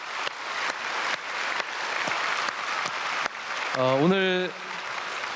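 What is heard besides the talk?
church congregation applause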